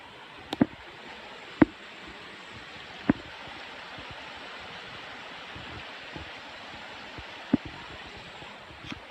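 A small stream runs steadily along a nature walk, a soft continuous rush of water heard alone, broken by a few sharp, brief clicks and taps.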